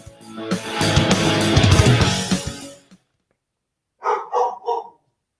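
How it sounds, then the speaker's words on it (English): Dogs bark in a dense, loud burst of noise for about three seconds. After a silence come three short, close barks or breathy woofs. "when the dogs are barking like the hounds of hells are coming"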